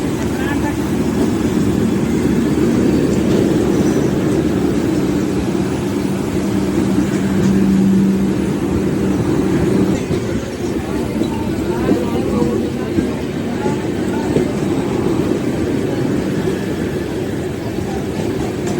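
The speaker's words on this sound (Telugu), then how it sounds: "యశ్వంత్పూర్ అంటే బెంగళూరు నుంచి వస్తుంది ఈ ట్రైన్" A passing train from Bangalore with a luggage van rumbles loudly and continuously, a low steady roar with a brief tonal hum midway, easing slightly toward the end.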